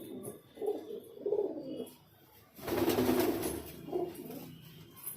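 Highflyer pigeons, including Salara birds and their young, cooing in a loft, with soft repeated calls rising and falling and a louder burst of fluttering or calls in the middle.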